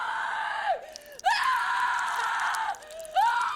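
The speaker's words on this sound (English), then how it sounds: "she starts screaming in earnest" A woman in the horror film Terrifier 3 lets out long, loud, sustained screams with sharp rising and falling pitch, broken by a short gasp between bursts.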